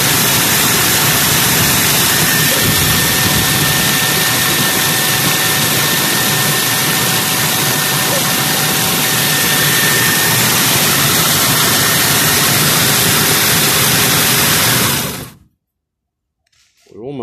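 A machine grinding crushed eggshells for vermicompost gives a loud, continuous, harsh roar with a steady droning whine that runs unbroken for about fifteen seconds and then abruptly cuts off into near silence.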